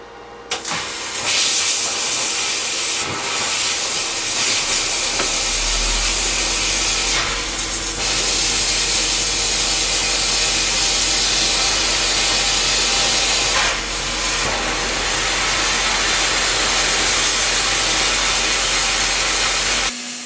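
Plasma torch mounted in a laser cutter cutting with its tip very close to the shield, a loud continuous roaring hiss with a low hum beneath, steady throughout with brief rasping scratches.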